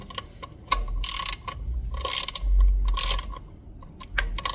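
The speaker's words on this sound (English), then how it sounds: "We're going to torque these bolts. So I've got a 7mm socket." A hand ratchet with a 7mm socket torques plastic throttle position sensor bolts during a 1999–2005 Miata supercharger kit install, giving three bursts of rapid close clicking separated by short pauses, then a few lighter clicks.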